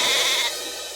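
Goat bleating, a single loud, harsh bleat that fills the second and tapers slightly toward the end, close up with no talk.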